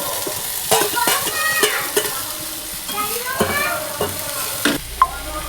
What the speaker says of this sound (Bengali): রসুনটা ভাজা হয়ে গেলে এবারে পরের মশলাগুলো দেবো আদা আর টমেটোটা দিয়ে দিলাম